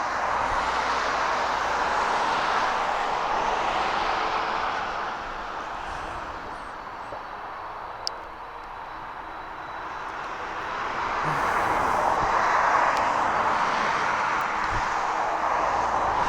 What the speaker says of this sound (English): And your DHL, it's a Boeing 757.